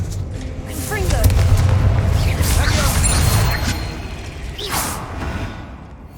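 Confringo fire spell in the Hogwarts Legacy video game, a deep rumbling explosion that swells and fades over several seconds with creaking, crackling debris and a second burst near the end.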